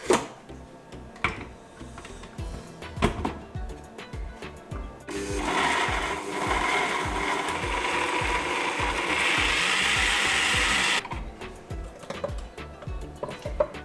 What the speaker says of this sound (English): So now we're just gonna blend this up